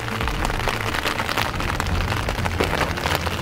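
Steady rain falls and patters during an outdoor car repair under a small tent, a dense, continuous hiss of drops on surfaces with scattered louder spatters, no talking.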